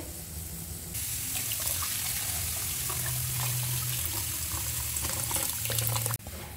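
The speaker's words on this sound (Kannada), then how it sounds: "ನೋಡಿ, ಚೆನ್ನಾಗಿ ಕುದೀತಾ ಇದೆ, ಸಾರು ರೆಡಿ ಆಗ್ತಾ ಇದೆ." Udupi temple-style rasam boiling in a pot gives a steady, dense bubbling and hissing that runs throughout at close range, with no voices.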